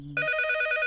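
A landline telephone rings with a clear electronic trill that starts abruptly and holds steady, close and loud, with no one talking over it.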